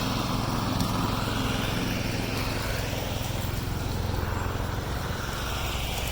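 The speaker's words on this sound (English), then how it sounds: "there's some guys mowing grass or something on the other side" Lawn mower cutting grass on the far side of a botanical garden in Warsaw, a steady, continuous engine drone that holds at an even level throughout with no voices over it.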